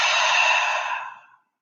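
One long, deep exhale during a yoga breathing exercise, a close breathy rush of air lasting over a second before tapering off into silence.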